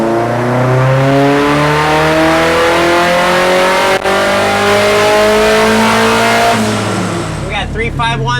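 Loud, close turbo SR20 engine in a Datsun 510 revving on a dyno, pitch climbing steadily through the gears before winding down, with voices faintly over the end.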